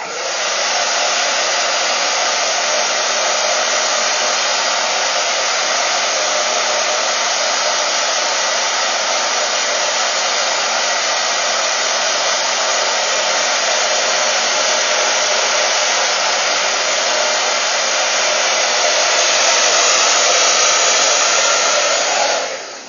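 A hair dryer blows steadily and loudly while a brush lifts and dries a section of hair, the airflow continuous and close for the whole stretch with no pauses or voices.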